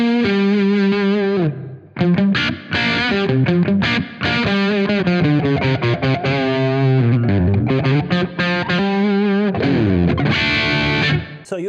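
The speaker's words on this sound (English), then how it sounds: "Just a bit more reverb." Electric guitar played through a Blackstar St James EL34 valve amp with added reverb rings out loud and alone, an opening sustained chord followed by busy, driven lead phrases with a lingering tail.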